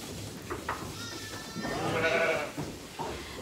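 A mother sheep bleats once, loud and close, with quieter rustling and faint background sounds around it.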